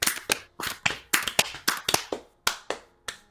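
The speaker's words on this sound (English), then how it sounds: "You clap. And this hand on top, you clap, and this hand on top goes and slaps a leg," Hand claps alternate with slaps on the leg in a steady, repeating rhythm, each hit sharp and distinct, close and moderately loud with no talk.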